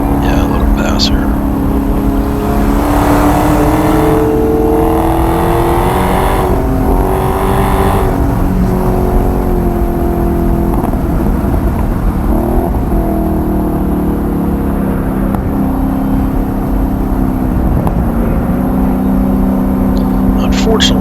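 Dodge Hellcat and Corvette on a race track, a steady loud engine roar and rumble running throughout with a slight rise and fall in pitch as the cars circle, tire and wind noise mixed in and a voice talking over it.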